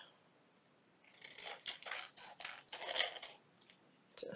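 Scissors snip around the edge of vellum sewn onto a junk journal page, a run of close, crisp cutting bursts after a quiet start, each cut a short papery crunch.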